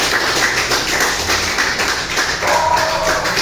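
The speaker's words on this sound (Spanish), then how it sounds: "Y un aplauso al Señor por esa verdad." Congregation applauding during a Spanish-language revival church service, a steady dense wash of clapping with no pauses, loud and close throughout, with faint voices mixed underneath.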